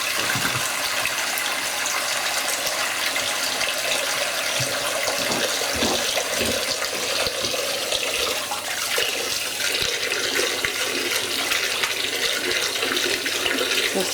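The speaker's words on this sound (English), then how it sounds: "I'm going to get her out the oven and wash off the matting powder." Tap water runs steadily into a sink to rinse matting powder off a baked silicone baby doll, a loud continuous splashing flow with occasional small knocks from handling.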